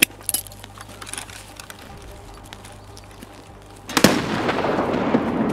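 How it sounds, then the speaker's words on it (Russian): A grenade goes off in Escape from Tarkov, a sudden loud blast that turns into a sustained roar and crackle after a few seconds of quieter ambient noise and small clicks. "Моя граната."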